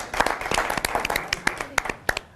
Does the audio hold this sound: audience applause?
yes